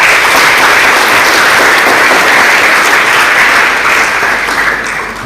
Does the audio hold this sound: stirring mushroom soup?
no